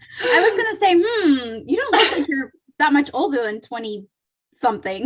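A single sharp sneeze bursts out partway through an ordinary conversation, loud and close, with people talking before and after it.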